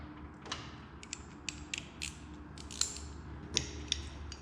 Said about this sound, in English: I'm going to grab a few tools here real quickly, an 8mm and a 10mm socket. We're going to remove our rod cap.